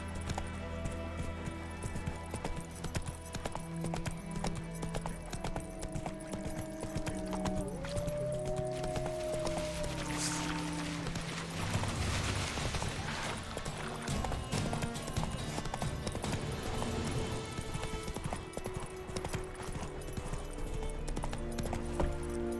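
Roach the horse trotting in The Witcher 3, steady rhythmic hoof clip-clop running throughout under game music and ambience, with a brief whinny-like tone partway through.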